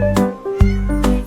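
Kittens meow several times in close, clear succession, high drawn-out cries overlapping with a soft musical background.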